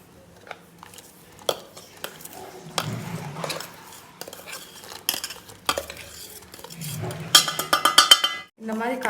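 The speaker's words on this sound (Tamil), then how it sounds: "இதுக்கப்புறம் சிம்மில் வச்சுட்டு இந்த பவுட்ரு உள்ளே சேர்த்து நல்லா கலக்கிக்கோங்க." A metal spoon stirs biscuit powder into hot milk in a pot on low heat, scraping and clinking intermittently against the pot sides, then a quicker run of rapid clinks near the end.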